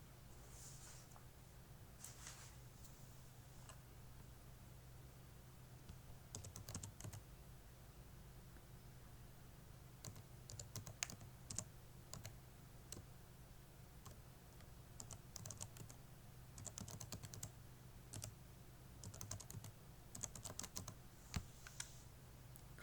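Keystrokes on a computer keyboard as a password is entered on a Windows 7 PC, coming in short bursts of clicks over a steady low electrical hum, fairly quiet and close, with no talking.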